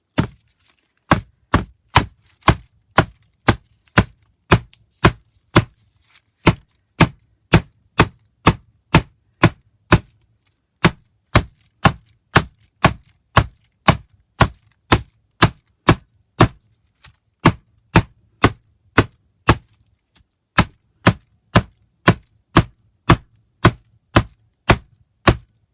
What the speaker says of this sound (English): I use just plain 20-pound copy paper and a mallet